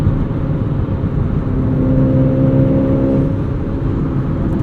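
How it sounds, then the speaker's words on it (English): A 2008 Volkswagen GTI 2-door with a manual gearbox and 2-liter turbo engine drones loudly and steadily from inside the cabin while driving, with a brief rising whir partway through and no talk. "You gotta love this 2-liter turbo from Volkswagen"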